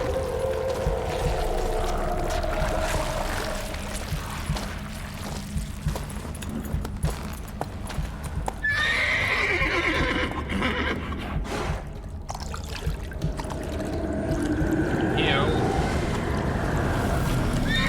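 A horse whinnies and hooves clop in The Witcher 3: Wild Hunt, a fantasy video game, over a rushing ambient bed. The neigh rises sharply mid-way, with softer movement sounds around it.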